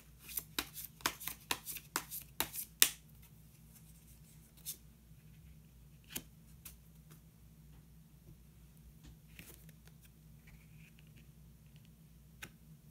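Tarot cards being shuffled and drawn, quick rapid flicks and snaps of cards in a fast burst, followed by scattered soft taps and slides in a quiet room.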